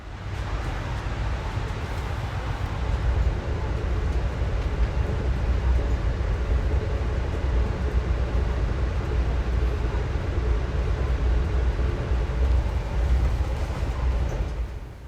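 Inside a coach of the Amtrak Vermonter as it leaves St Albans, a steady low rumble of the moving train with soft rattling runs evenly throughout, fading slightly at the end, with no talk.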